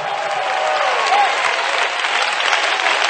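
Dense, steady clapping from a church congregation praising together, a continuous wash of many hands throughout with faint voices mixed in.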